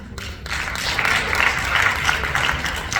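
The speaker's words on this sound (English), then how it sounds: "don't applaud too much" An audience at Congressman Gerry Connolly's Mount Vernon town meeting breaks into dense, sustained applause, a steady roar of clapping hands that holds through the whole stretch.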